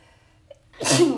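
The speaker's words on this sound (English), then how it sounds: "sneeze coming on." A single loud sneeze bursts out near the end after a short, quiet pause with a faint intake of breath.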